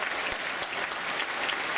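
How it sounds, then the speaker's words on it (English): An audience at a banquet breaks into dense, continuous clapping, a loud, even wash of many hands with no break. "you don't actually have to hold your applause"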